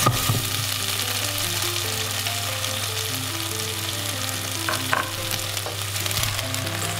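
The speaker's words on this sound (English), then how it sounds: "Stir fry for a while." Winter vegetables being stir-fried in a pan for tomato miso soup sizzle steadily and close by, with a few light clacks of the utensil against the pan and no voices.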